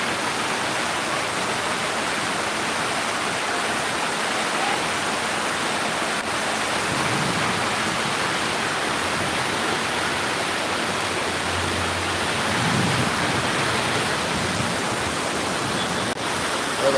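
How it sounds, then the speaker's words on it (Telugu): Heavy rain pours down steadily during flooding in Malakpet, a dense, continuous hiss that stays loud and even throughout without pause. "వర్షం వచ్చేసింది వర్షం వస్తుంది"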